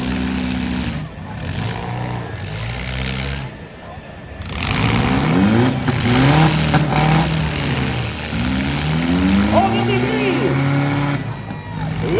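Demolition derby cars at Saint-Victor keep running and revving in the arena, with engines rising and falling through repeated accelerations under loud crowd and announcer chatter.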